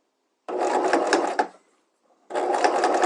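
A sewing machine stitches a patch pocket, running in two close, steady bursts of whirring needle action split by a short pause as the fabric is turned at a corner.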